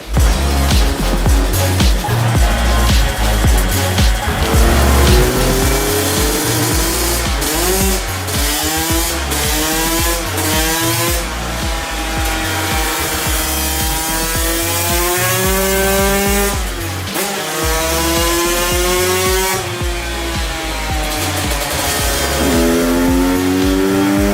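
A small 125cc motocross bike engine screams loudly and continuously on a dyno, its pitch rising and falling through repeated hard revs, with no talking.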